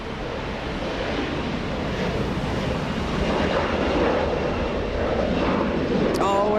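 A Lufthansa airliner pushes back at Los Angeles International Airport, a steady, fairly loud jet engine roar that swells slightly and holds, with a brief high whine near the end.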